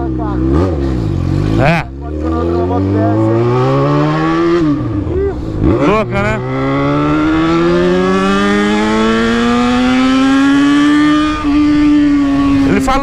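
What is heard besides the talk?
Yamaha XJ6 motorcycle accelerating during a ride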